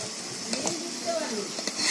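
Taro pieces fry in hot oil in a pan, a steady hiss broken by a few light scrapes and clinks of a utensil stirring or lifting them out.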